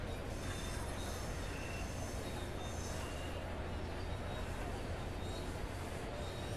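An LIRR train in Train Sim World 5 brakes hard under max brake, a continuous low rumble with faint high wheel squeal, steady throughout at moderate level.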